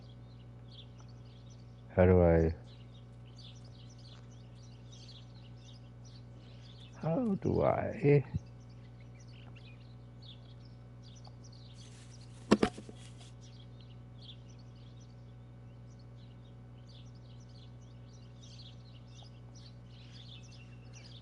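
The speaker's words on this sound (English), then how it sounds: "Hello, little sparrow." Sparrow chirping in a garden in the video game Martha Is Dead: faint, scattered high tweets run quietly through the whole scene beneath a steady hum, with a few short bursts of a person talking and one sharp click.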